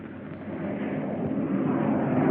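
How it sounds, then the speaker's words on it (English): A steady, broad roar of aircraft engines builds gradually in loudness, a continuous rumbling drone without any talking. "Planes take to the air, carrying sensitive instruments and nuclear scientists"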